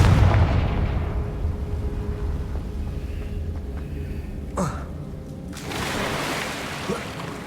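A Confringo spell explosion in the Hogwarts Legacy video game, with a rumbling blast near the start that fades, then a sharp crack and a renewed burst of noise toward the end.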